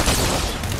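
Burst-fire weapon shots in a Fortnite Chapter 5 ranked zero-build match: a loud, dense volley of rapid gunfire filling the whole moment without a pause.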